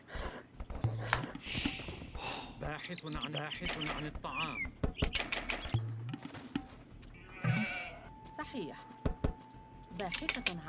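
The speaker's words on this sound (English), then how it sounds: "Your first 6 villagers should gather sheep." Sheep bleat among busy Age of Empires game sounds, with repeated short bleats mixed with clicks, chimes and unit effects in a dense, lively layer.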